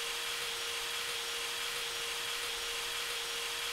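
A power drill unscrewing in a video game gives off a steady whirring buzz with a strong fixed tone, held at an even level for several seconds with no voices.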